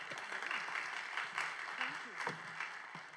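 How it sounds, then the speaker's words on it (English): An audience applauds at a national quantum science conference as a chief scientist is introduced, a steady dense wash of clapping with scattered voices chattering underneath throughout. "Give a round of applause, please."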